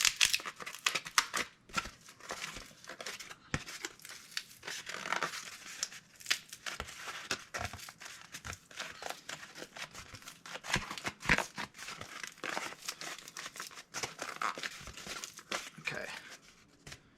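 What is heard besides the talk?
cardboard being folded and shaped along scores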